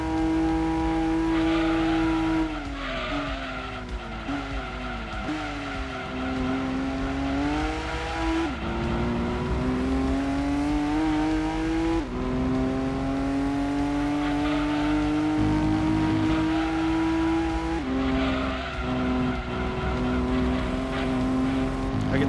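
Race cars in Gran Turismo 2 roar through the final lap of the Grand Valley Speedway endurance race, a steady, loud engine drone rising and falling in pitch as they accelerate and shift, with no pause throughout.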